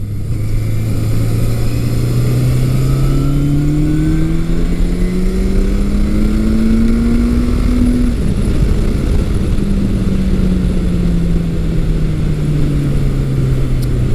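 A classic Suzuki GS midsize motorcycle engine revs loud and close above 6,000 RPM, pitch climbing steadily, dropping briefly at a shift, then winding down again in a sustained roar.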